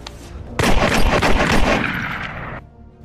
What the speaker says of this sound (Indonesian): Jimmy yang sangat murka pun secara langsung menembak Rob sampai tewas